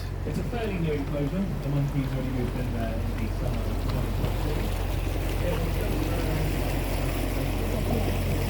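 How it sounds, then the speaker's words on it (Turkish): A boat moves across open water toward Samsun during a 19 May event, a steady broad rumble of engine and water rush with wind noise, while people talk softly over it. "Teknemiz Samsun'a doğru gidiyor arkadaşlar"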